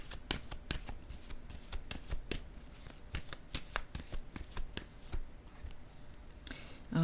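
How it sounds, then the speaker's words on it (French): Cards are drawn one by one from a deck during a tarot-style reading, with a steady run of crisp papery flicks and slides close by and no talking. "Je vais piger une autre carte ici."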